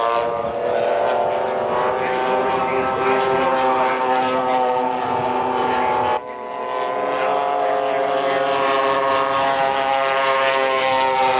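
AT-6 Texan propeller planes in a pylon race at an aviation expo roar past with a steady, loud, droning engine note that holds throughout, briefly dipping midway as one aircraft passes.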